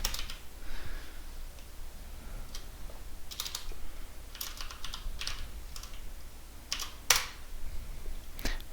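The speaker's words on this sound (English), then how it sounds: "And in Edit mode you can use your keyboard to type whatever you need." Computer keyboard typing, keys tapped in short irregular bursts of clicks with pauses between, close and fairly quiet over a faint steady background hiss, with no voice.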